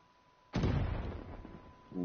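A small gun fires once in a video game with a sudden sharp boom, then a rumbling tail that trails off, followed by the start of a second report.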